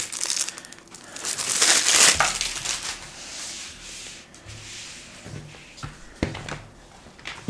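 Plastic bag crinkling and rustling while a Shein mousepad is unpacked, a loud close burst of crackle early on, then softer intermittent crinkles and rubbing.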